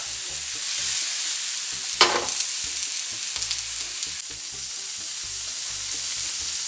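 Chopped mushroom stems hiss and sizzle on a hot griddle, a bright continuous frying crackle close up with a short burst of louder spattering partway through, no talking.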